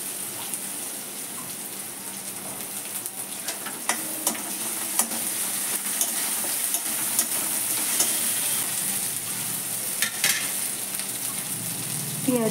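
Ginger garlic paste fries in hot oil, giving a continuous crackling sizzle with repeated scraping and stirring strokes throughout, and no talking.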